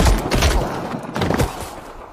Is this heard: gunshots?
yes